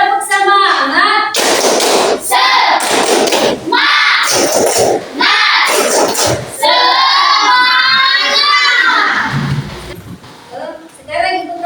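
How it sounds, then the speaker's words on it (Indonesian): A primary school class performs the rhythmic 'tepuk semangat' clapping routine, with children's voices chanting along to sharp bursts of group clapping at a close distance. "Sekarang kita tepuk semangat dulu."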